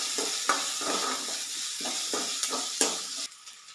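Small onions sautéing in a pan for a curry, a soft steady sizzle broken by rhythmic scraping stirs of a spoon against the pan, close up and with no voices.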